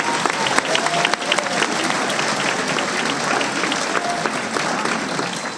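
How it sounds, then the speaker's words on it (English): An audience claps steadily for graduating high school students at a Class of 2022 graduation ceremony, a dense, even wash of applause with some crowd noise that holds at a constant level throughout. "Can we give all of our students another round of applause"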